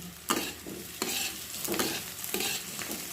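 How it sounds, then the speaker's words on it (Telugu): Bitter gourd pieces with turmeric and curry leaves are stirred in a frying pan, several distinct scraping sweeps over a soft steady sizzle, close and clear with no voices. "పసుపు వేసుకుంటున్నా చిట్టుగడు కరివేపాకు ఒకసారి కలుపుకుందాం"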